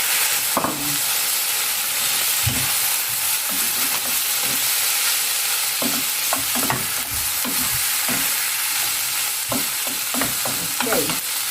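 Tomatoes go into a pan of browned pork belly for binagoongang talong, raising a loud, steady sizzle and hiss of frying fat with repeated stirring scrapes and clinks throughout, close and without talk.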